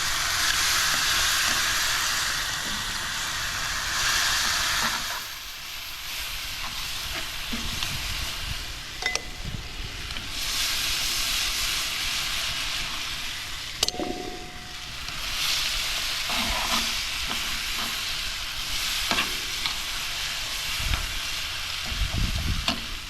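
Venison meat sizzles in a stew pot over coals, giving a loud, steady hiss and crackle with occasional clinks and stirring scrapes that swell and ease in waves.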